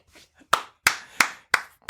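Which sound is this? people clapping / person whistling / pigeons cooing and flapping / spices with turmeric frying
people clapping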